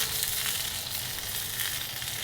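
Lamb shoulder chops sizzle on a hot grill, a steady, close, hissing crackle that carries evenly throughout without any voices.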